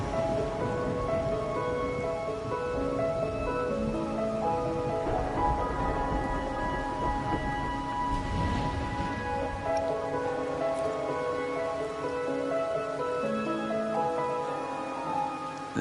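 Steady rain falls in a video game world, a dense continuous patter on surfaces at an even level, with game music and tones layered over it and no voices.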